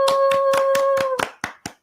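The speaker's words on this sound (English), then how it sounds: "I think we should have a clap track." Crisp hand claps in a steady rhythm of about a dozen, close and loud, recorded as a clap track with a sustained tone under the first part before the claps thin out and space apart.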